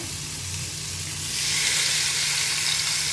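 Fish frying in a pan of coconut oil over a high flame gives a steady, close sizzle that swells louder and brighter partway through, with no talking.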